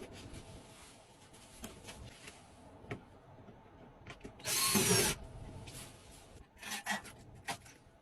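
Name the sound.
bolt being installed into air conditioner bracket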